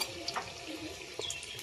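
Singara pastries frying in hot oil in a karahi, a steady crackling sizzle with a few brief clinks and splutters over the continuous hiss.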